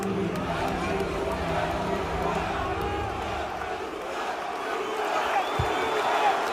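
A Dallas home crowd at an NBA game against the Thunder roars and chatters in a steady, far-off swell, with a commentator's voice talking over it.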